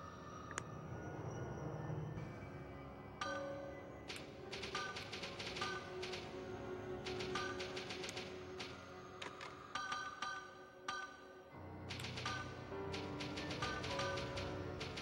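Typing on a PS2 keyboard: bursts of quick clattering key taps in irregular runs with short pauses, close and fairly quiet over a low background hum.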